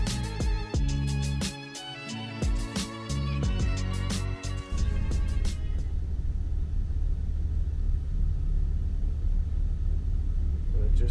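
A turbocharged 3.9-litre V6 Dodge Dakota with a TD04HL-15G turbo idles on a cold day. A steady, close low rumble takes over after an opening stretch with talk and other tonal sound.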